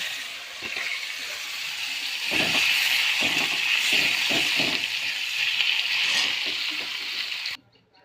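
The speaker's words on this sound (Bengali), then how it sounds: "আলুগুলো একটু ভাজা করে নেব।" Potatoes frying in oil in a pan give a steady sizzling hiss that swells louder midway, with a few faint stirring clicks, then cut off abruptly near the end.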